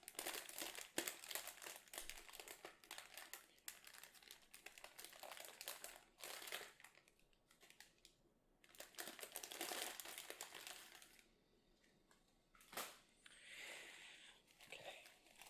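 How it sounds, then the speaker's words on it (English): Paper is crinkled and shredded up close and quietly for a DIY pig sachet from Taiwan, in an ASMR setting. Dense bursts of crackly rustling come in waves, with brief pauses between handfuls. "So here's the paper I used."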